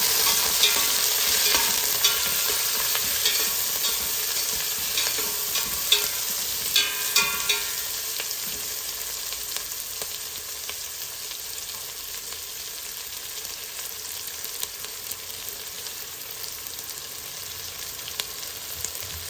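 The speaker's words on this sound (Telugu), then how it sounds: "మన ఉల్లిపాయలు మంచిగా వేగుతున్నాయి కదా" Onions frying in a pan for a Hyderabad Old City breakfast kichidi: a long, even sizzle that is brighter and busier at first, with occasional stirring clinks, then settles into a softer steady hiss.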